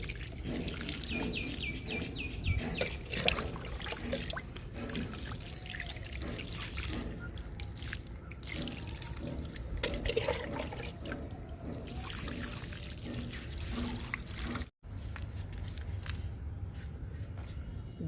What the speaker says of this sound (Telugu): ఇలా చల్లుకుంటూ వాటర్ చేయాలి.